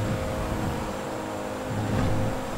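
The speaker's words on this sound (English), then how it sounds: "I really like how they did the interior sounds of the cars when you're first person." Low engine drone heard from inside a car in first-person view in GTA V on PC, a steady rumbling hum with a brief rise in revs near the end, no voices.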